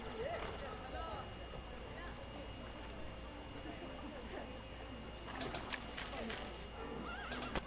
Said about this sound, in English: It just keeps playing the horse sounds, like the city sounds.